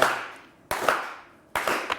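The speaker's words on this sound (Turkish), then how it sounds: "üzgün alkış geliyor" On a TV word game show, three short bursts of sparse, sad clapping each start sharply and trail off, spaced evenly like a canned sound effect, with no talk over them.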